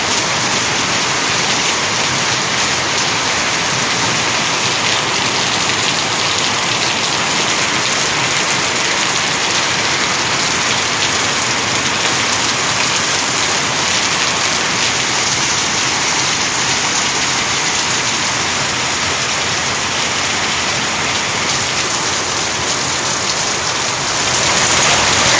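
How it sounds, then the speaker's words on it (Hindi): Heavy rain from a cyclone in Andhra Pradesh pours down in a dense, loud, unbroken roar, with a faint engine rumble beneath it. "चक्रवात मोथा के कारण आंध्र प्रदेश के कई हिस्सों में भारी बारिश हो रही है।"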